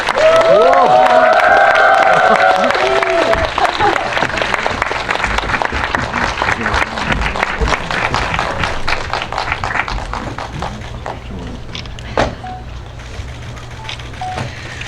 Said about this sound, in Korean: 박수를 조금 길게 쳐볼까요?